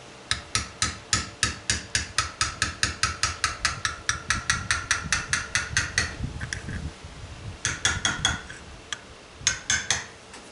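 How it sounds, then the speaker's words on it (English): Plastic screwdriver handle tapping a sleeve out of an American Bosch injector pump from a Fairbanks Morse 36A engine, a quick run of sharp close knocks in a steady rhythm, then a pause, then a few more scattered taps. "Just take a soft end of a screwdriver here, plastic end, and just tap it a little bit."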